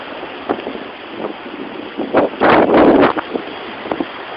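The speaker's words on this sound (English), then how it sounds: "Here comes about a 45-mile-an-hour gust." Strong nor'easter storm wind gusting around 45 miles an hour, loud buffeting rushes that build to a peak in the middle and then ease, with no voices.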